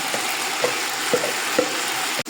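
Tomato and marinade masala fry in a pan with a steady close sizzle, punctuated by three or four soft rhythmic stirring scrapes and a sharp clunk at the very end.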